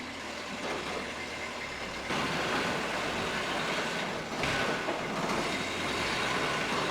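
A 1987 Toyota Hilux pickup with 255,000 miles reverses into a garage, its engine running as a steady, loud broadband rumble that swells a little partway through, with no voices.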